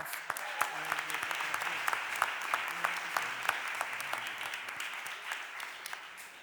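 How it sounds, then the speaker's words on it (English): Applause at a Philadelphia City Council stated meeting honors a retiring newspaper figure, steady clapping from a room of people with sharp individual claps standing out, fairly distant and even throughout. "Let's give him a round of applause."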